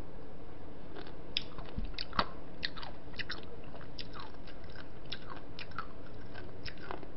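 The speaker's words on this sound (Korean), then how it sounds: "오만디라는 친구를 먹어보겠습니다" Someone eating spicy braised seafood with warty sea squirt, close-up soft wet chewing and crunchy bites repeating at an irregular pace, with no talking.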